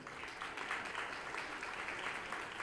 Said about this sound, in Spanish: Un aplauso para recibir a Ángel.